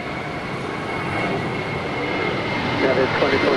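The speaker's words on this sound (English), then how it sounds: "All Nippon Airways Flight 5 now departing there on the north side to Tokyo Narita." All Nippon Airways Boeing 777-300ER departing Los Angeles LAX on the north side, its jet engines a steady, broad roar at a distance that swells slightly toward the end, with faint talk underneath.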